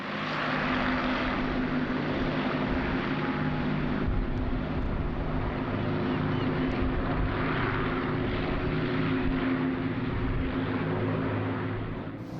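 Avro Lancaster bomber flying at an airshow in Jersey, its piston engines producing a loud, steady propeller drone with layered low harmonics that holds at even strength throughout.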